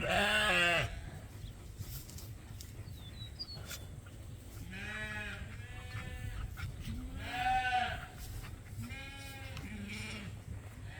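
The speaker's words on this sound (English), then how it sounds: "Happy days when the sheep get to go out to pasture." Several sheep bleat repeatedly, some close and loud and others farther off, with wavering cries overlapping against a steady background rumble.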